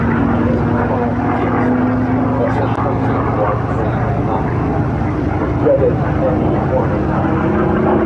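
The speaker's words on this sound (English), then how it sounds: "So flying the ME-109 is final push on its full speed" A Messerschmitt Me 109 fighter roars past at full speed at the Duxford Flying Legends air show, a loud sustained engine drone that fills the whole stretch, with an announcer talking over it.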